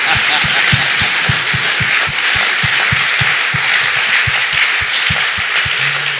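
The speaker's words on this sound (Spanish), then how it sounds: "Aplaudan." An audience at a pastor's interview claps in a steady, rhythmic beat, loud and close, with a murmur of crowd noise underneath throughout.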